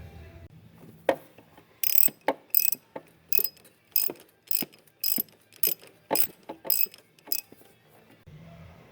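A hand ratchet clicks through a series of quick, close bursts of ratcheting strokes with short pauses between them while loosening the passenger-side motor mount nut on a BMW 325i.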